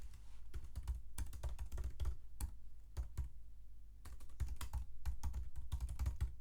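Details being typed into a web form on a computer keyboard: soft, close key taps in rapid bursts, with a short pause partway through.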